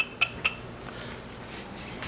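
Two quick, light metallic clinks from thrust washers being handled during reassembly of a 32RH (904) automatic transmission's input section, faint against a quiet workshop background.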